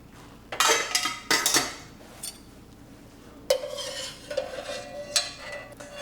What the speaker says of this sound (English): I'm going to pull out my 10-minute egg.